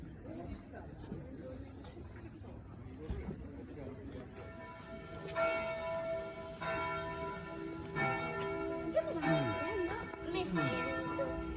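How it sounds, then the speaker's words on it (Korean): A church bell on Burano in the Venetian lagoon begins ringing partway through, repeated ringing strokes over an outdoor crowd of tourists chatting, with people talking nearby. "저기서 뭔가 종소리가 하나 들리네요."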